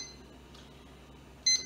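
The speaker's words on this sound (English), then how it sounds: "I'm gonna go ahead and set my timer" A kitchen timer being set for about nine minutes while pasta boils, giving one short, clear beep at the end after a faint low hum.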